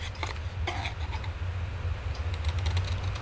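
Shears snipping a piece of scrap material, a few quick crisp cuts up close over a steady low background hum.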